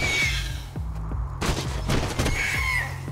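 Gunfire in the video game Borderlands 2 comes as rapid, sustained bursts of shots under a low, steady rumble of game noise, loud and close.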